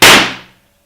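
A single firecracker bursts with a loud, sharp bang close by, its crackling decay fading out within about half a second.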